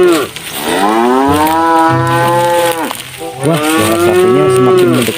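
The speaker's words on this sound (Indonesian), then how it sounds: "Di sini ada suara sapi lagi nih." A cow moos loudly and close by, two long drawn-out lowing calls one after the other with a short breath between.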